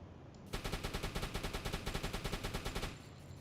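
Old flak gun in a WW2 naval video game firing one long rapid burst of evenly spaced heavy shots, loud and close, starting abruptly and cutting off after a couple of seconds.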